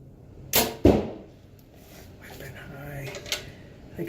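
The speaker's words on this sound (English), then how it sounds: "These big fat arrows really chew it up." Big fat arrows strike an archery target bag in two sharp, close thuds in quick succession, followed by a quieter impact later, with a voice talking faintly in between.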